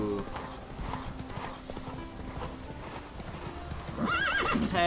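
Roach the horse in The Witcher 3 clops along with steady hoofbeats, then lets out a loud, close whinny near the end, while a voice talks briefly.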